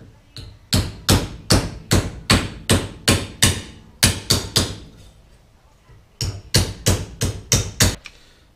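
A hammer strikes metal over and over to bend it into a fuel tank. The blows are loud and close, landing in a fast, even rhythm, with a short pause before a second burst of rapid strikes.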